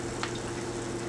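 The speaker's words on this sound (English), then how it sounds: "I usually fry these 4 to 6 at a time" Zeppole dough frying in hot oil, a small batch in a pan; steady close crackling sizzle throughout with one brief brighter pop, no voices.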